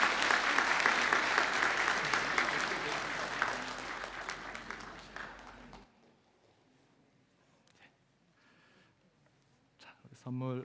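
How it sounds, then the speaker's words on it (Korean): A church congregation claps in blessing after a prayer at a Sunday worship service, loud dense applause for about six seconds that stops abruptly, followed by quiet and a voice at the end. "우리 박수로 축복해 주시기 바랍니다."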